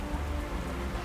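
Steady rain in the video game Mass Effect, a dense continuous patter with low rumbling wind underneath, even and unbroken.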